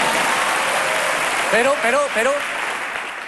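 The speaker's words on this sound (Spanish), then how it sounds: "Si me van a aplaudir también me puedo quedar" An audience at a stand-up comedy show applauds, a steady wash of clapping that continues as the comedian speaks over it.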